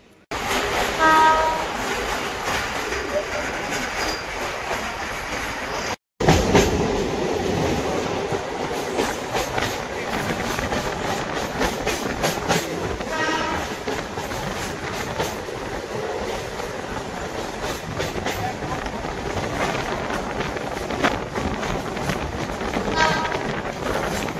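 A Kolkata local train rumbles along with rhythmic clattering wheels and a horn sounding early on, loud and close, with a brief cut near the start.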